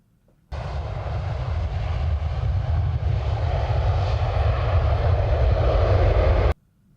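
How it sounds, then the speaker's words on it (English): A jet aircraft in flight gives a steady, loud roar with heavy low rumble and broadband hiss, holding even for about six seconds before cutting off abruptly. "Let's hop in the jet and make our way to St. Augustine."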